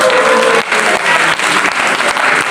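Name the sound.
congregation applauding in church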